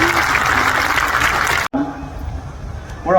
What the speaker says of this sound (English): So a round of applause for Qatar and for what they have accomplished for all of us.